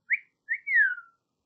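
A reader whistles in imitation of a wolf whistle: a short rising note, then a longer upward swoop that falls away, clear and close, with no talking over it.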